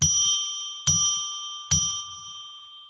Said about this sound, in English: I'm going to now ring a bell 3 times to declare sacred space